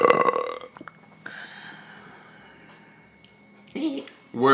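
Loud, drawn-out burp after drinking non-alcoholic beer, a single long belch of several seconds, followed by brief voiced sounds near the end.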